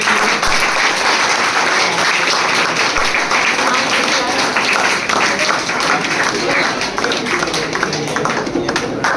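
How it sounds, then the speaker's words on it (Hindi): A classroom audience at a coaching institute claps loudly and continuously, dense close-up applause filling the whole stretch without pause. "ताली हो जाए।"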